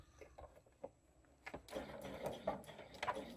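A sewing machine back stitching a seam, faint at first, then a denser run of quick mechanical whirring and clicking bursts through the second half, with no talk.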